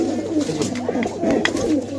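Racing pigeons on a rooftop coo continuously in low, throaty, overlapping murmurs, close by, with a few soft flutters and taps mixed in.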